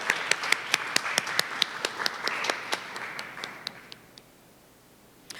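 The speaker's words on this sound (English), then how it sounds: "Let's give it up for a round of applause" Audience at a city literacy campaign launch applauds in a steady patter of distinct claps, moderately near and fairly soft, thinning out and fading toward the end.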